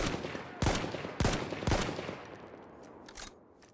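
Shots ring out in a 5v5 domination shooter video game, three loud sharp cracks about half a second apart, then a couple of fainter, more distant shots as the echo dies away.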